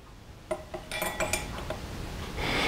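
A metal teaspoon clinks against a glass or cup while stirring honey into milk for rye bread dough, with a few sharp taps followed by steady scraping, close and moderately loud.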